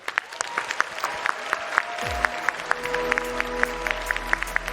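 A crowd claps for needlework finalists returning to the stage at a cosplay contest, with scattered sharp hand claps and cheers over a low rumbling hum that rises partway through.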